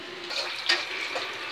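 Water pours onto a hot pressure cooker in a home kitchen to cool it, making a steady close splashing hiss with a few brighter splashes over about a second and a half.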